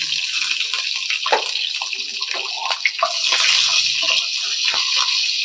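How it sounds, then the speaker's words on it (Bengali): Cut capsicum pieces fry in hot oil seasoned with whole cumin seeds, giving a bright, continuous sizzling hiss close by that grows slightly stronger partway through, with no clear talking. "এবার আমি দিয়ে দেবো ক্যাপসিকাম একটু করে কেটে রাখা আমি একটু ভেজে নেবো তেলের মধ্যে"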